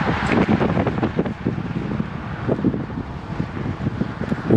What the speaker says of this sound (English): I stay on Mike's left here because of the wind blowing from the east. Now you hear it here.